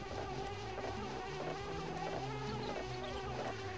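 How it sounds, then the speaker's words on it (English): Bees buzzing around a hive in the Banjo-Kazooie video game, a steady, dense insect drone blended with looping game music, continuous and even throughout with no talking. "I'm glad the bees on those don't attack you so long as you don't break the hive."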